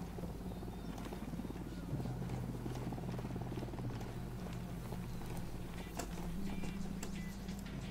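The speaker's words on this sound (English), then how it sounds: "There is a helicopter, so I should be cautious." A helicopter in Ghost Recon Wildlands gives a steady, loud rotor drone with a low rhythmic chop, continuous throughout amid other game noise.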